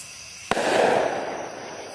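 A single sharp firework bang goes off at close range, followed by a crackling, hissing burst that fades over a second or so against steady outdoor background noise, with no talking.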